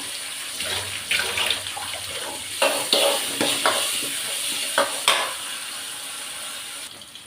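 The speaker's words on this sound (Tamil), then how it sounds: "வதக்கலாம்." A steady sizzle from a pan as onions and curry leaves are sautéed, broken by repeated scraping stirs that die away into quieter frying near the end.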